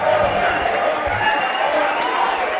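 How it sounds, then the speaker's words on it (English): A packed crowd at a Super Smash Bros. Melee tournament grand finals erupts in loud, continuous cheering and applause, a dense roar of voices and clapping with no break. "the crowd goes wild"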